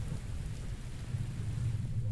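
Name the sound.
thunder during a rainstorm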